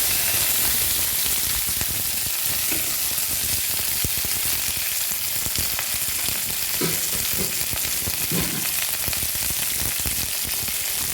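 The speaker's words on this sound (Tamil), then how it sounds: "அதுக்கப்புறம் பொரிஞ்சு வந்து கடலைப்பருப்பு கடுகோடு சேர்த்து இந்த வெங்காயத்தையும் போட்டு நல்லா வதக்கணும்" Onions frying in hot oil with chana dal and mustard seeds, a constant loud sizzle with a few stirring scrapes, close and with no talk.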